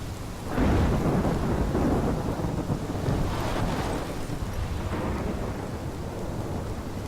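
A thunderstorm in the video game Life Is Strange: a heavy, continuous roar of rain and wind with deep rolling thunder swelling near the start and again midway, loud and unbroken, no voices.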